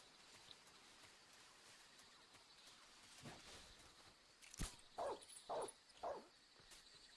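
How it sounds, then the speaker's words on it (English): A dog barking in the stealth video game Metal Gear Solid 3, a few quick barks in a row near the end, following a sharp thud, over quiet game ambience. "The guard heard the dog."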